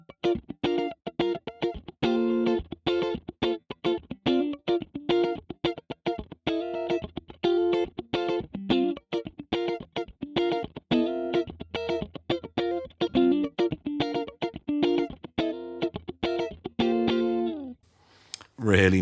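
Electric guitar through a clean factory preset on a Neural DSP Quad Cortex, playing crisp, rhythmic staccato chord stabs with a bright clean tone in a steady funky pattern, close and upfront with no talking.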